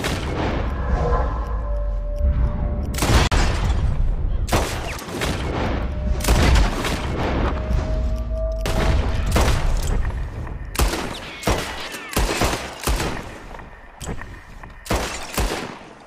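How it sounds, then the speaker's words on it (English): Revolver shots in Red Dead Redemption 2 crack out in a rapid series of sharp bangs against bottles, a dozen or more close reports with brief gaps between bursts. "Whoever shoots more of these bottles wins. Just draw your gun and aim when you're ready"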